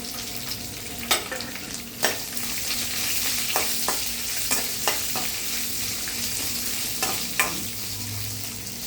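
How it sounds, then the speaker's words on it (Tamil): Onions, four or five garlic cloves and a little tamarind sauté together in a pan with a steady close sizzle. A spoon strikes and scrapes the pan now and then. "எல்லாத்தையும் போட்டு சேர்த்து வதக்கிறேன்."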